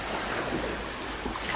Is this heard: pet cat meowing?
no